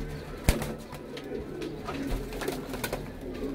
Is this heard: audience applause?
no